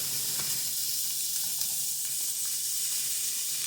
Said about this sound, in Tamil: இப்போ நான் வந்து அந்த டொமேட்டோ பேஸ்ட்டை ஆட் பண்ணிக்கிறேன்